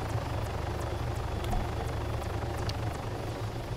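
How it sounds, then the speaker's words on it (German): A helicopter in the video game Arma 3 Altis Life, with a steady rotor thump and engine drone holding at an even level throughout and no voices over it. "So, Helikopter, genau."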